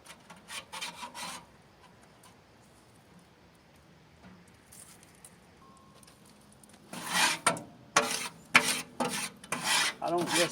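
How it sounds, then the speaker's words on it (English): Metal tool scraping and raking flaky carbon buildup from the inside of a smoker, with a burst of rasping strokes at first, a quieter pause, then loud repeated close scrapes. "You just gotta scrape and rake."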